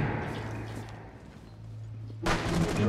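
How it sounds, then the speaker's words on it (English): A grenade in Rainbow Six Siege goes off with a sharp loud blast near the end, following a low murmur of game ambience. "I'm gonna throw a grenade in there."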